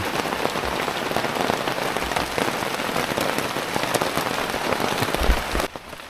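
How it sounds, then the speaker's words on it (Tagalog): Heavy rain pours steadily onto surfaces in Batangas, a dense continuous hiss with drops pattering, easing briefly near the end. "Lalong lumakas ang ulan"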